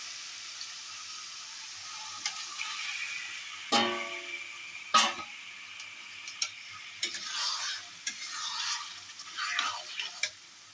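Meat and spices being fried and stirred in a pan in a home kitchen, a low sizzle beneath occasional sharp clinks and scrapes of a spoon against the pan, quiet overall with a few louder knocks.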